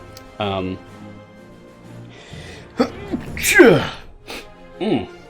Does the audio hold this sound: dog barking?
no